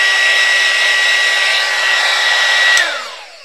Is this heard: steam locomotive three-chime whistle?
no